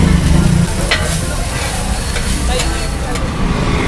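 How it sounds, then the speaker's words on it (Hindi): Chopped carrot, capsicum and cabbage fry on a hot street dosa griddle in Amravati, giving a steady, loud sizzle with scraping and stirring clicks, and traffic noise faintly in the background. "गाजर, शिमला मिर्ची, पत्ता गोभी सब मिक्स है इसमें। इसको अच्छे से फ्राई किया जा रहा है पहले।"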